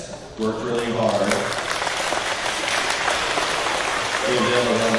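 An audience breaks into applause, steady dense clapping that swells after a brief opening and runs throughout, with a voice speaking faintly over the start and the end.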